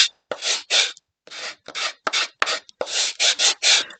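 Rough edges of wooden blocks are smoothed by hand with repeated short rasping strokes, about a dozen close, dry scraping sweeps in an uneven rhythm with brief silences between them, no voices.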